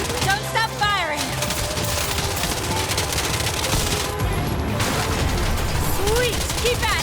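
Rapid gunfire at car tires in the action game Ananta, sustained bursts of automatic fire close and loud, with brief tire squeals and engine noise mixed in.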